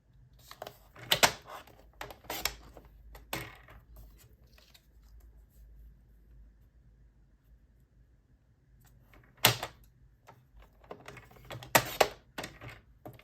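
A paper cutter slices sheets into 1 inch strips, giving sharp close clicks and crisp chops in short clusters, separated by a long quiet stretch, with no voices.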